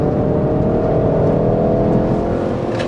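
A Ford Focus RS accelerates hard on a race track, its engine droning loud and steady from inside the cabin with a rising revving hum throughout.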